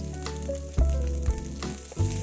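Onion goes into a hot frying pan for a Filipino banana-heart and octopus stew, setting off a loud, steady sizzle with a few stirring scrapes, close and alone with no talking.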